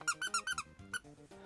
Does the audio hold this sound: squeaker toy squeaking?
yes